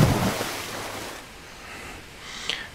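Water from the ocean in an Unreal Engine 4 game, where a player character swims up and climbs out, a soft surf-like wash fading to quiet with a brief brighter splash near the end.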